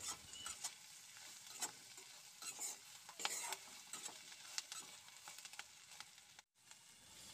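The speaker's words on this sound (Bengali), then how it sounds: "দিয়ে খুন্তিটা দিয়ে নাড়াচাড়া করে দিচ্ছি।" A spatula stirs and scrapes chilli paneer in a sizzling pan, faint and close, with repeated clicks and scrapes over a steady frying hiss and a brief pause near the end.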